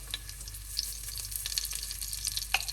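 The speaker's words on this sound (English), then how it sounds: "I will add shallots and I will sauté them until they are ready" Shallots and garlic sautéing in a pan give a steady, fairly quiet sizzle with scattered crackles and pops, heard close with no voices.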